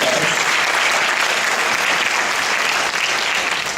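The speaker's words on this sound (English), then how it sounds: "So let's give her a round of applause." Audience applause at a girls' final awards ceremony, a loud, dense and steady wash of clapping from a large crowd with no voices on top.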